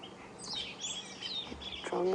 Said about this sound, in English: Drongo's calling.